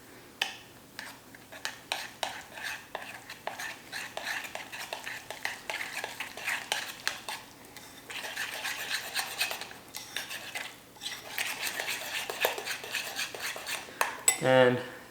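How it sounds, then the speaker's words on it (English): A spoon scrapes and clinks around a bowl, stirring vanilla protein powder into a breakfast pudding, repeated scraping strokes in bursts, close and clear, with a louder clatter at the end and no talk. "I'll use 1 scoop of vanilla protein powder. So I'll just mix it all in together here"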